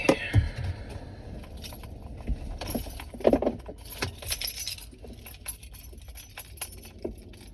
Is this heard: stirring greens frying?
no